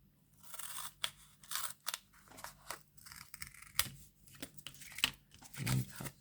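Scissors cutting out homemade craft stamps, with a series of distinct close crisp snips and crunches in an uneven rhythm, loud against a quiet background with no talking.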